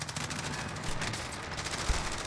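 Rapid bursts of gunfire crackle through a dense, noisy mix of Call of Duty: Warzone game sounds, with a sharp low thump near the end.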